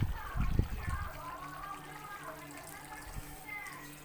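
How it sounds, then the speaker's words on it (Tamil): Coconut milk poured into a simmering mutton curry gives a soft liquid trickle and splash, strongest in the first second, then fades while someone talks over a low background hum. "எடுத்து வச்சுருக்க தேங்காய் பாலை ஊற்றிடலாம்"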